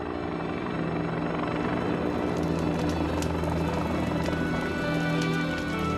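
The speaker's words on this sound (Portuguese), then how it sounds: "Um helicóptero soltando napalm chamejante em gel é a maneira escolhida" A helicopter drops flaming napalm gel onto a wildfire, its steady rotor thump and engine drone loud and continuous throughout, with no voices.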